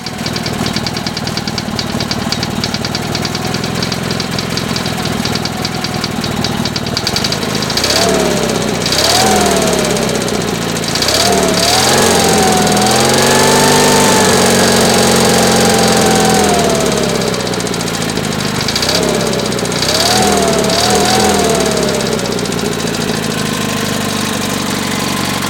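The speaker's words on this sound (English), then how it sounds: "weigh in on what sound is coming from that engine" A 19.9 hp Sears Suburban garden tractor engine runs steadily with a rough knocking rhythm, its pitch rising and falling as it revs.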